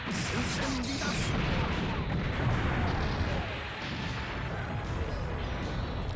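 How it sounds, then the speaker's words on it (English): Explosion in the mecha strategy game Super Robot Wars 30, a dense, sustained roar of blasts and crashing debris filling the whole stretch at steady loudness, with faint voice underneath. "That was a nice explosion, though."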